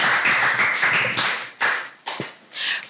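A burst of audience clapping at a Nigerian youth debate competition, dense and fairly loud at first, then breaking into a few separate swells before trailing off.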